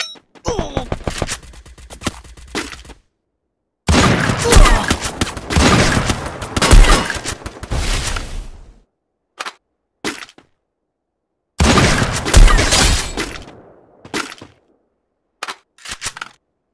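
Heavy sniper rifle shots from the M82B and AWM in Free Fire, a mobile battle royale game, come in loud bursts separated by silences, with several short isolated cracks near the end.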